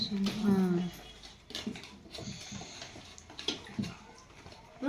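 Water is poured over small fish to wash them for a masala tawa fry, giving intermittent splashing and dribbling at close range. A person talks briefly near the start.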